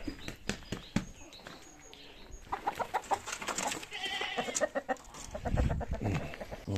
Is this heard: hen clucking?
yes